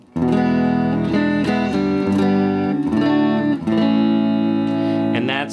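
An electric guitar plays dry through a solid state amp with no reverb, strummed chords and sustained notes ringing out loud and clear in several phrases, with short breaks between the strums.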